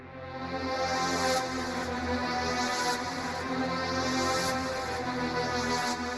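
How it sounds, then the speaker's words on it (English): Bright synth pad chords transposed up an octave in an evil trap beat, sustained and dense with a high shimmering top, chords changing roughly every second and a half, loud and alone with no talking. "all I did was I just took the top notes right here, control up, and then I just pitched it up an octave."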